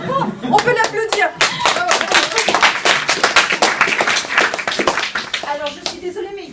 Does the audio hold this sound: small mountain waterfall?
no